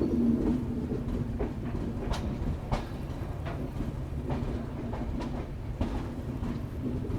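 The 12445 Uttar Sampark Kranti pulls out of Udhampur railway station with a low rolling rumble and a rhythmic clickety-clack of wheels over rail joints, moderately close and steady.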